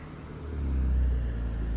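A car passes on a residential neighborhood street, its low rumble swelling and then easing off at moderate distance, faint and alone.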